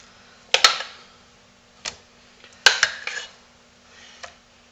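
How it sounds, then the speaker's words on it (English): A spoon scrapes and clinks against a soap mold while swirling white soap batter for a sleep aid soap, several sharp knocking taps and scrapes with quiet gaps between them, close and clear. "I'm going to swirl that up with my spoon so I don't end up with a real white glob"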